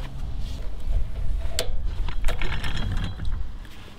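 Snap ring pliers working a snap ring off the axle of a 1978 Troy-Bilt tiller that sat unused for years; close, irregular metallic clicks and scraping ratchet-like sounds with a few sharp snaps, no talking.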